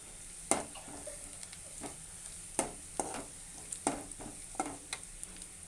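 Green chillies and onions frying in a pan, a soft continuous sizzle broken by scattered clinks and scrapes of stirring, fairly quiet and without talk.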